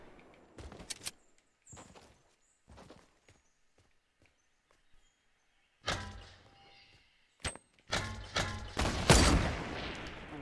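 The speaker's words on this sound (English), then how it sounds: "What was that shot?" Gunfire in Fortnite: Battle Royale, scattered footstep-like knocks early, then after a quiet stretch a run of loud sharp shots and bursts near the end.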